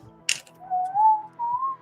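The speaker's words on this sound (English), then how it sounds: "Or are you whistling into the mic?" Someone whistles a short, wavering tune very close to the microphone, with a brief clicking noise just before it starts.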